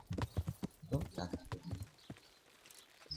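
Horse hooves clip-clop in the medieval video game Kingdom Come: Deliverance, a close, rhythmic clopping that slows and fades out after about two seconds, with a voice faintly underneath.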